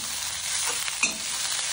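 Mint leaves sautéing in a pan for mint chutney, a soft steady sizzle with faint stirring and a brief scrape near the middle.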